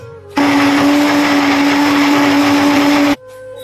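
A ten-year-old blender grinds ginger and garlic, starting abruptly into a loud, steady high-pitched motor whine that runs for about three seconds before cutting off.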